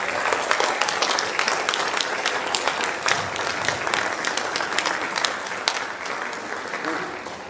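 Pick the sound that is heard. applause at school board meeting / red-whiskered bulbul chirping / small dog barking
applause at school board meeting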